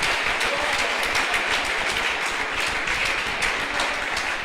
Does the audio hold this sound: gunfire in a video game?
no